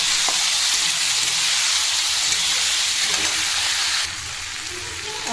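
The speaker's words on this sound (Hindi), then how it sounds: "अब प्याज टमाटर लहसुन हल्का भुना गया है" Onion, tomato and garlic sizzle steadily as they fry in a pan for a paneer dish, a dense continuous hiss up close that drops slightly in level near the end, with no talking.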